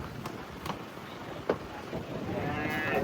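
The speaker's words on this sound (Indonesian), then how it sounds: "Sapi hitam." A black cow lows while cattle are unloaded from a truck, a single moderate call near the end over steady wind and background rustle.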